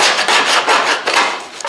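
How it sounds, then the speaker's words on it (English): A hand scraper rasps across the painted body of a 1967 Pontiac GTO, close and loud, in several quick rough strokes of gritty scratching with no talk. "See how I'm doing this with this scraper? And what it's doing, it's scratching that paint so the stripper will penetrate in a lot faster."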